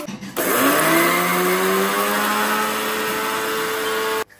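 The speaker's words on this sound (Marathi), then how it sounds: "आपल्याला मिक्सरवर चांगले बारीक करून घेते" A mixer grinder powders flattened rice (poha) in one loud, steady whir lasting about four seconds, its motor pitch climbing slightly as it spins up, then cutting off abruptly with a brief quiet at both ends.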